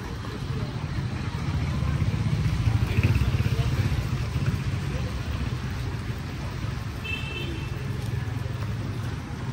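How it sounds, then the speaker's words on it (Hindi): Steady rain falling on a street in Hanoi beside a road with passing traffic and cafes, a continuous broadband hiss under low engine rumble from motorbikes and cars, with voices talking over it. "साथ साथ बारिश भी चल रही है, अचानक से मौसम में तब्दीली आई है"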